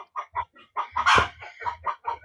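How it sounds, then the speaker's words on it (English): Outdoor chickens cluck in quick choppy bursts close by, and a rooster lets out one loud, strained crow in the middle, with the clucking continuing before and after. "I'm sorry about the roosters"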